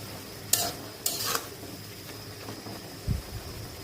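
Spinach leaves are sautéed and stirred in a pan with a soft background sizzle, broken by a few sharp scrapes and clinks of the utensil against the pan.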